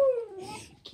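A dog begging for a sandwich lets out a falling, high whine followed by softer whimpering noises, close by and fairly quiet.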